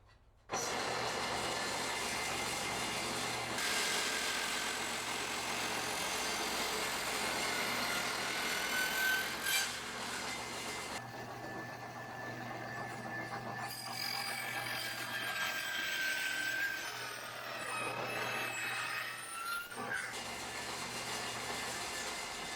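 A power saw with its blade set low cuts through plastic for a pontoon boat cover support, producing a loud, steady mechanical whine and grinding drone that runs unbroken for over twenty seconds.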